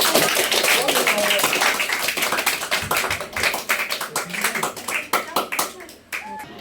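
A class of students claps their hands after a health lesson, a sustained burst of rapid, overlapping claps that thins out and ends near the close.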